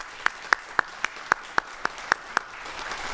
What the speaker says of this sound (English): I would just like to suggest everyone give Cindy a round of applause